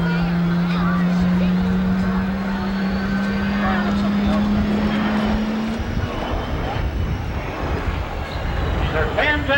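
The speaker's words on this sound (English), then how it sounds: "High altitude, in a high-speed pass, you watch as he goes by that low-speed aircraft." Military jet making a high-altitude, high-speed pass at the 1990 Westover AFB airshow, its engine roar sweeping across with a falling drone over a broad, loud rumble, while an announcer talks over it.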